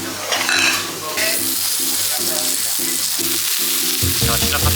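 Fried rice stir-fried in a pan, a steady loud sizzle with rhythmic scraping and clinking of a utensil against the pan, close by with no talk.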